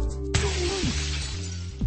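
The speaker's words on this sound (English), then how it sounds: "I smash through the windshield with the same speed as the car had before it crashed" A crash test dummy smashes through a car windshield in a collision, giving one sudden loud glass shatter followed by sustained crunching and tinkling debris, with a falling tonal sweep underneath.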